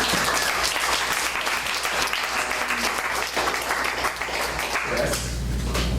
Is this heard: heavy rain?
no